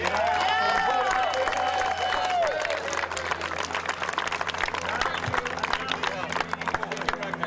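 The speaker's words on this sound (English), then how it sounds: "And parents, let's have a nice big round of applause for Brad and Chuck." Parents clapping and cheering at a youth baseball World Series award gathering, a sustained broadband patter of applause from a crowd, with talk and crowd murmur mixed in.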